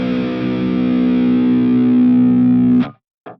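A distorted metal guitar with a muddy boost in the low mids holds a loud sustained chord that is abruptly cut off. A brief scrape of noise follows.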